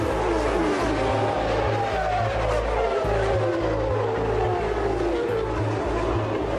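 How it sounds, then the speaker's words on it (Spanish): High-revving Formula 1 car engines roar continuously, a loud sustained whine with pitch shifting as cars pass, no voices. "el sonido de aquellos motores era como poder escuchar el corazón de la Fórmula 1"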